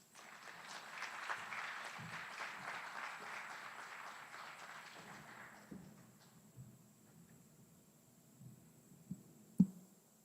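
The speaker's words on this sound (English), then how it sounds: "Please give them a round of applause." Audience applause at a military advanced-training graduation ceremony, a moderate, distant crowd clapping that fades out after about five seconds, followed by quiet room noise with a few scattered thumps and footsteps.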